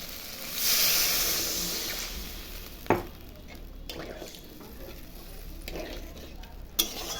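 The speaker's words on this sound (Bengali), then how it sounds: "মশলা কষানো হয়ে গেছে, এখন আমি ঝোল দিয়ে দিচ্ছি" Broth is poured onto fried spice paste for a potato and lentil fritter curry, giving a loud hissing rush that slowly fades into a quieter simmer, with sharp spoon clicks against the pan as it is stirred.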